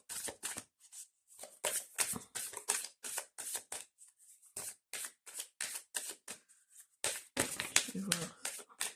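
An angel oracle card deck being shuffled, with quick papery riffles and flicks of cards in irregular bursts separated by brief pauses, close and fairly crisp.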